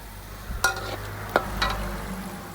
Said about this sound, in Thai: แล้วก็เติมกะทิลงไปอีก